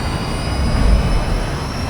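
A guided missile flies in the Call of Duty Modern Warfare 2 video game, giving a steady, loud rushing roar with a low rumble that holds unbroken throughout.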